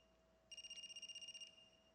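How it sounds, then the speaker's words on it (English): An electronic phone ringtone in AI: The Somnium Files trills rapidly for about a second, a steady warbling ring over a quiet hum. "Is that a phone ringing?"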